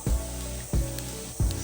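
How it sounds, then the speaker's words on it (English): Three quick bursts of sake from a spray bottle hit pork belly grilling over a shichirin, each short hissing spritz followed by a steady sizzle of fat, evenly spaced and close. "a little spray of sake"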